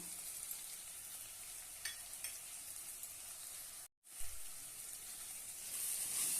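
Masala of red chilli powder, salt and black masala is sautéed in a pan for bitter gourd curry. It gives a soft, steady frying hiss with a momentary dropout, and nobody speaks.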